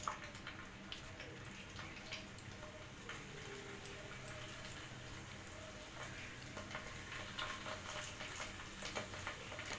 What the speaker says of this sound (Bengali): তেল গরম হয়ে গেছে, এর মধ্যে দিয়ে দেবো আমি আস্তে আস্তে পকোড়াগুলো সব।